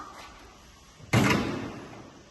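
Hood of a LOVOL 244 tractor pushed shut and latching: one sharp, loud close-up slam with a clack, then a short ringing decay, after quieter handling noise.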